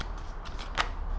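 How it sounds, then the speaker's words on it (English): Tarot cards being shuffled by hand, a soft papery riffling that swells into a brief brighter flutter near the end, close and quiet with no talking. "As I'm shuffling, guys, I'm seeing a lot of water cards."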